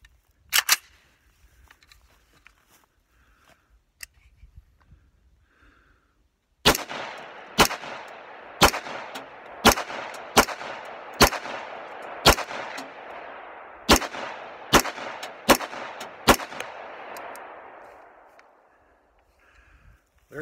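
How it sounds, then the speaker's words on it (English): A rifle fitted with a ProMag vertical forward grip fires about a dozen sharp, loud shots downrange. After a single early shot and a pause, the rest come in a quick, fairly even string, each crack ringing out briefly before the next. "I'll just put a few rounds downrange"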